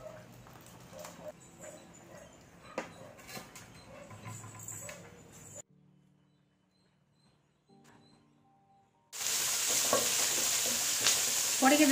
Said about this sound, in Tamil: பச்சை மிளகாயும் வெங்காயமும் வந்து வதக்கிட்டு இருக்கேன்